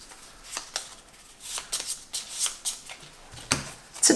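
Playing cards being shuffled in several quick riffles and bursts, close and crisp, with short pauses between, no talking.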